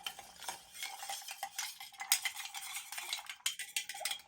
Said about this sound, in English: You're gonna go ahead and give that another stir.